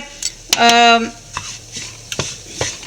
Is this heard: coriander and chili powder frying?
yes